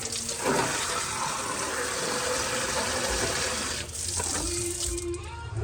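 Water poured steadily into a sand and feed mix for homemade farm feed, a continuous splashing rush that fills the clip, close and loud, with a brief dip near the end.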